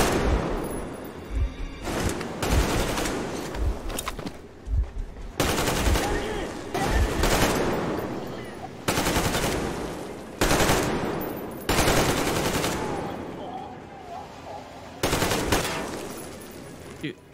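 A gun fires again and again in the Metro Exodus video game, with loud automatic bursts in repeated blocks of about a second each, broken by short gaps and a few faint game sounds.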